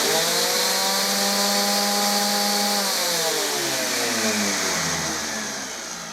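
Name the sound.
random orbit sander running with Nilfisk Aero 26-21 workshop vac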